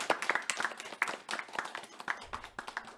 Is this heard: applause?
yes